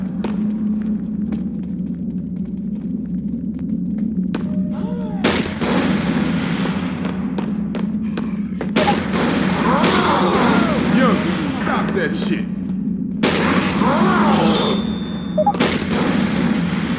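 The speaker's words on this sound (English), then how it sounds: "Got a grenade launcher! Grenade launcher!" Booming weapon blasts from a grenade launcher in a Silent Hill video game, several heavy bursts at irregular intervals over a low game drone, with voices talking over the action.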